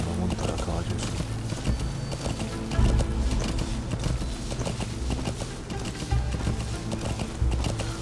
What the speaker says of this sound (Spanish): Qué chido montar a caballos